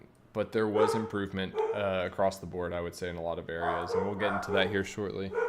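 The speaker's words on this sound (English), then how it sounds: "Sorry for the dogs barking." Dogs barking and yipping in the background of an indoor room, mixed under someone talking steadily throughout.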